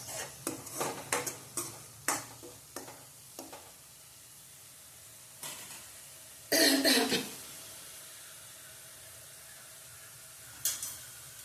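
Whole potato curry sautés in oil in a pan with a low sizzle, punctuated early by a quick series of spoon clicks, with a loud cough and throat clearing midway and a final stir at the end.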